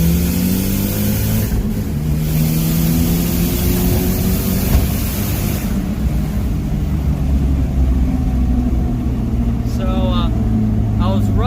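A Mitsubishi Eclipse GSX with a 16G turbo pulls hard in second gear, its engine droning loudly and steadily throughout with a rising note, heard from inside the car with talk over it.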